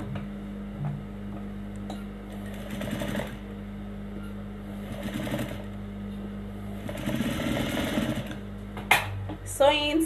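A sewing machine stitches the lining of an asymmetric dress in slow, gentle bursts over a low steady hum, with a person talking throughout.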